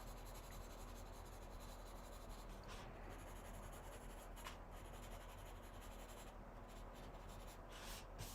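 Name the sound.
colored pencils colouring on wood grain paper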